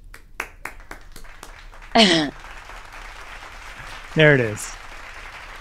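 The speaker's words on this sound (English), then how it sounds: "why the fuck didn't you have like an applause track ready?" A few sharp, scattered claps from a played-back applause sound effect track at the start, then someone talking over a quiet background.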